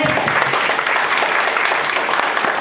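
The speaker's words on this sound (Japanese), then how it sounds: "では飯岡さんを大きな拍手でお迎えください" An audience claps in sustained, dense applause to welcome a presenter at a Toastmasters presentation-skills event. The clapping is steady and fairly loud throughout, with no talk over it.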